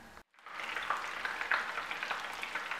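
Breaded grouper fingers fry steadily in hot oil, a dense, continuous crackling sizzle that swells and pops irregularly after a brief silent gap near the start; no voices.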